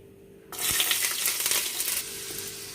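Mustard seeds and garlic dropped into hot oil for bitter gourd curry: a sudden loud, bright sizzle bursts in with a crackle of popping, then settles into a steadier, quieter frying hiss close by.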